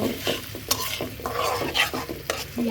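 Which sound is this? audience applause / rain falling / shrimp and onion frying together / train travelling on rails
shrimp and onion frying together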